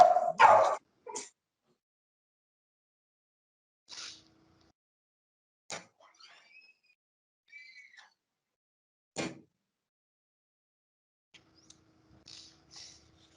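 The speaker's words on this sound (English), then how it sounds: "someone rang and my dog went crazy" Dog at home going crazy after a doorbell, a few sharp excited barks up close, then scattered faint yips and whimpers separated by long silences.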